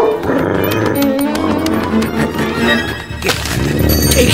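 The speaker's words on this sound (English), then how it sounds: "Sick him, Sam." A dog growls and barks aggressively as it attacks, loud and close, with a scuffle and commotion around it.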